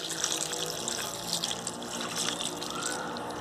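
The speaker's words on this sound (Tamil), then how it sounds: "இப்போ கொஞ்சமாக வாட்டர் சேர்த்துடலாம்." Water poured into mutton gravy inside a pressure cooker while making Arcot-style mutton gravy; a steady, close liquid pouring and trickling sound runs throughout, fairly even with no talking.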